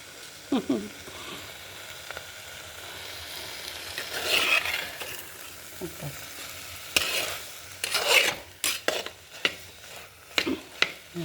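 Prawn roast is stirred and fried in a pan, with intermittent clattering scrapes and bursts of sizzling. The strokes come in uneven clusters and sound close, with quiet gaps between them.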